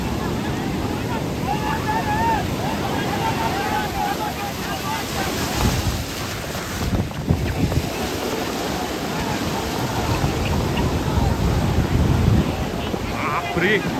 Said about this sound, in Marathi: लाटा ज्या प्रमाणात येतात ज्या मोठे लाटा उसळतात